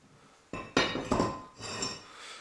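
A VW brake disc is pulled off the wheel hub, producing several close metallic clanks and ringing scrapes over about two seconds, with no talk.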